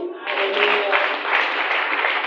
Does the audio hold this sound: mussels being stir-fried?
no